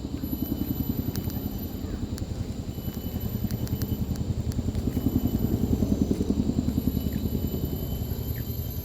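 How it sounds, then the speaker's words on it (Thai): Steady thudding rotor chop of a helicopter passing overhead, loud and continuous, swelling slightly midway with a faint whine above. "เสียงเฮลิคอปเตอร์"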